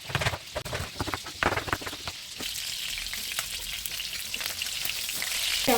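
Chicken pieces frying in margarine, made as Banten-style butter fried chicken: a loud, dense sizzle and crackle of spattering fat fills the clip, with occasional stirring scrapes near the start, and no one talking.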